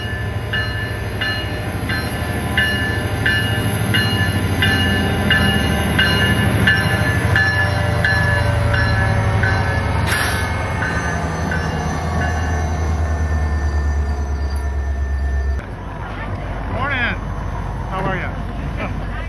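Alaska Railroad train running on its line between Seward and Fairbanks, a steady loud rumble of wheels and cars with rhythmic clatter, continuous throughout with a brief sharp squeal midway and a drop in level near the end.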